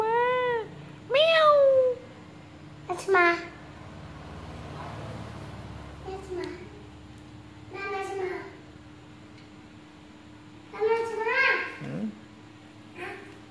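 Several short meows, near and clear, spaced apart over a low background hum, with a voice between them that may be imitating the cat.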